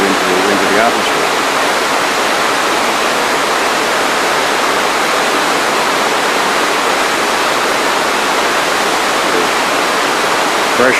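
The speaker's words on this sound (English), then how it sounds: "This is the blow off after the air plant builds up pressure and it gets over its pressure" Compressed air hydropneumatic plant at Ragged Chutes blowing off excess pressure, venting air and water into the open air as a continuous loud rushing hiss, steady and broadband throughout.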